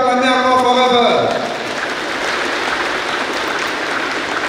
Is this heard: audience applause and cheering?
yes